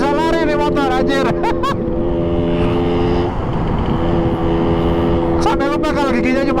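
A 1962 Vespa VBB classic scooter engine drones steadily while being ridden, a close, even hum with a slight pitch shift midway, and a rider's voice talking over it at the start and end.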